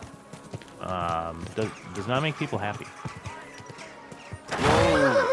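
A horse trots and snorts while ridden through a village in Kingdom Come: Deliverance 2, with hoof clops and a short whinny-like burst at the end, all mixed under a man's close, steady talking.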